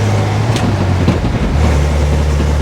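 A 1957 REO dump truck cruises in fourth gear with the rear end in high range, giving a steady, loud low engine drone with rumbling road and wind noise throughout and a brief bump partway through.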